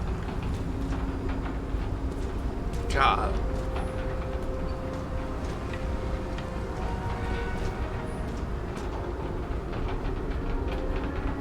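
Rail-station ambience in the video game Nobody Wants To Die: a low, steady mechanical rumble of trains and a brief rising whine, with someone talking over it.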